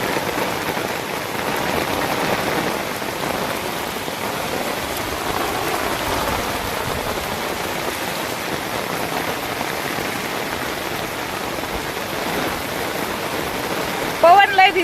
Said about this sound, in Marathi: लय जोरात पाऊस आला नाशिकला